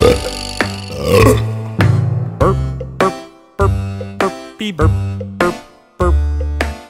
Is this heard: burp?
yes